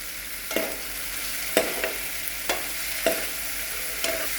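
Tomatoes and curry leaves fry in a pan for a dhaba-style kaju masala curry, a steady soft sizzle broken by several sharp spoon clinks and scrapes against the pan at irregular intervals.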